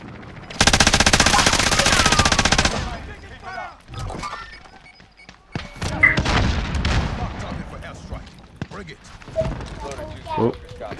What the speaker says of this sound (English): Getting shot at from the top of the bridge.